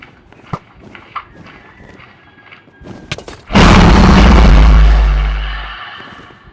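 Light footsteps and soft thumps in a Minecraft ender dragon fight give way to a single loud, booming end crystal explosion that rumbles and slowly fades.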